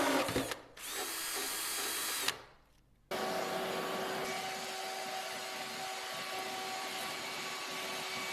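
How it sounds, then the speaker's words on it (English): A handheld power drill with a Forstner bit bores a hole through wood for a DIY farmhouse-style desk. It makes a steady, close, loud whine, briefly stops, then runs on continuously to the end. "Then using a Forstner bit, I drilled that hole through."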